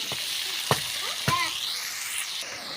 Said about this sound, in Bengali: আলুগুলো ভাজা ভাজা হয়ে গেছে। এবারে কেটে রাখা টমেটোগুলো দিয়ে দেবো।